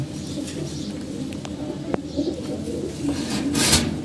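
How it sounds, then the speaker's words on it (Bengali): A pair of pigeons, one silver and one Jabra, coo steadily at close range, the soft low calls repeating over a faint background of other birds chirping. "এটা সিলভার কবুতর জোড়া দিছি, সিলভার প্লাস আপনার জাবরা কবুতর দেখতে পাচ্ছেন"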